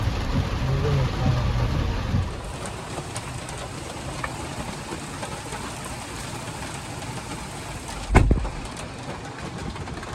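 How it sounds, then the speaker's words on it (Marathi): A dense, continuous roar of heavy monsoon rain at a resort fills the scene, with one sharp thump late on. "भरपूरच पाऊस आहे मुसळधार पाऊस आहे"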